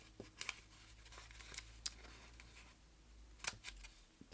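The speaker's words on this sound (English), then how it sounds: "I'm going to cut it open a little bit." Scissors snipping a strip for a jellyfish weaving craft; a few faint, crisp clicks spaced irregularly over a quiet room background, with no talking.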